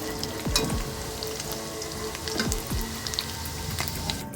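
Paneer frying in hot oil for a no-onion, no-garlic aloo paneer curry, giving a steady close sizzle with popping crackles and a few scraping spatula sweeps.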